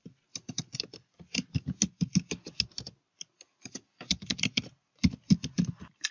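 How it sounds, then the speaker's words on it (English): Computer keyboard typing while entering an email address and password: close, brisk bursts of key clicks with short pauses between words, alone without talk. "There you need to type in the email address and the password to get logged in first."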